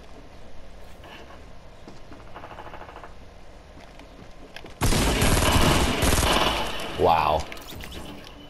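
A new submachine gun in Fortnite Battle Royale fires in a long, loud, rapid burst lasting several seconds, following quieter game sounds and a few distant shots.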